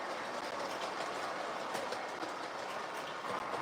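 A Lionel O gauge model train hauls a long string of cars around a layout, giving a steady, continuous rumble and clickety-clack of wheels on track, close and even throughout.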